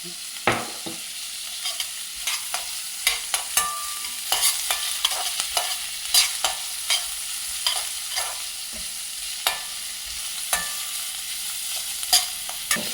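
Green peas, diced potato and carrot with salt sauté in a pan, a continuous soft sizzle punctuated by repeated clicks and scrapes of stirring, with no voices.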